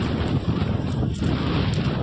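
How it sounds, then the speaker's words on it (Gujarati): Strong wind at Chowpatty beach buffets the microphone with a loud, steady low rumble, gusting throughout with no voices. "ફૂલ પવન આવે હે"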